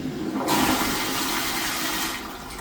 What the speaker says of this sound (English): So now when I'm stand up, it's going to end up, in a little bit, it's going to flush.